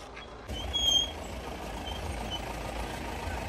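An off-road jeep comes along a rough hill track near Kolukkumalai, its engine a low, steady rumble that swells slightly early on and then holds even, heard faintly at a distance with no talking.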